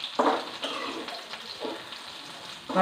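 Ivy gourd sautéing in a pan, cooked for a fish curry: a gentle sizzle underneath scraping stir strokes at a fairly close distance. The stirring comes in short bursts, and there is no talking.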